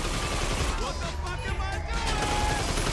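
Bursts of gunfire ring out in GTA Online: rapid, overlapping shots and rattling fire fill the mix over dense game background noise.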